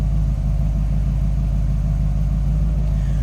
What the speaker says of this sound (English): Nice little rumble coming out of that small block.